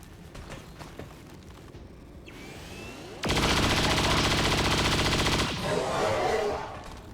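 Sustained automatic weapon fire in XCOM 2 turn-based combat, a loud dense burst of rapid shots lasting about two seconds and trailing into echoing debris, preceded by quieter mechanical clicks and a whooshing movement.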